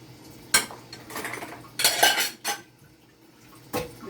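A lid set over a pan of fish, giving several sharp metallic clanks and clatters of cookware spaced across a few seconds, close and fairly loud against a quiet kitchen.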